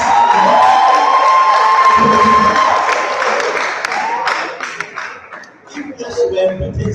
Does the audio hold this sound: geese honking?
no